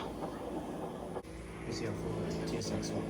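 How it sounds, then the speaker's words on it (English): Loud idling engine of a tuned car fitted with a camshaft, cams and bolt-ons, a steady low rumble filling the background while people talk nearby. "Oh yeah, his car's too loud."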